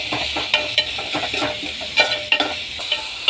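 Crushed ginger, garlic, shallots and onion sizzle in a pan while a utensil scrapes and stirs in repeated sharp strokes over a steady frying hiss, close up with no voices.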